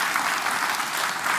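Audience applause at a World Bank panel discussion, a dense, steady wash of many hands clapping at once that stays even and loud throughout, with no talk over it.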